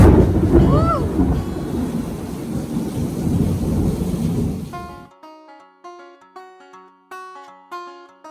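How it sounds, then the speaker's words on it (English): Deep rolling rumble of thunder amid steady rain and wind, loud and broadband, then a sudden cut to quiet plucked musical notes. "And thunder and then lightning"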